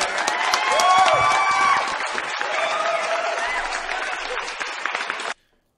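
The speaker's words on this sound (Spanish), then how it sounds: "Aplauso para el medio, señor" Crowd applause and cheering at a Spanish-language show, loud and continuous with whoops and voices mixed in, swelling early and then holding steady before cutting off abruptly near the end.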